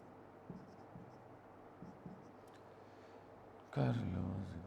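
Chalk or marker writing on a board during a class 10 chemistry lecture: faint, scattered scratches and taps at a quiet level, followed by a voice starting to speak.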